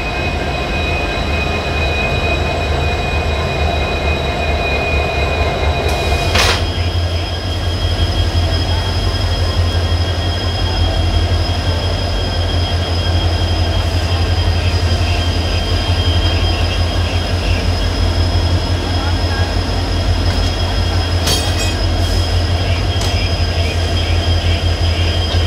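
Train descending the Braganza ghat toward Dudhsagar Falls in heavy rain, a steady loud rumble of wheels and rail clatter continuous throughout, with two sharp bursts of metallic screech or squeal.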